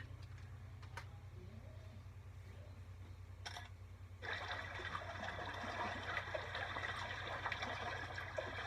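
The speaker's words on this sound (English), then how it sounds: "Now we have some nice, relaxing water sound, just like on my albums." Relaxing flowing water plays from a background track, a soft trickling wash over a steady low hum that swells fuller and brighter partway through, with no voices.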